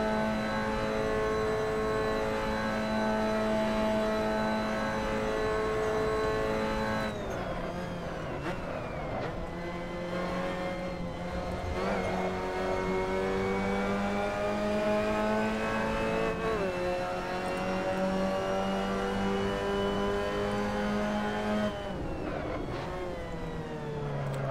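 Engine of a Mazda MX-5 Cup race car in a racing simulator: a steady loud droning whine rising through the revs, with several abrupt drops at gear changes, sustained with no talking.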